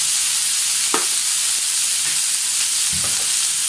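Lamb chops fry in butter with dried parsley, giving a steady, loud, hissing sizzle close by, with a few faint knocks of a utensil against the pan and no talking.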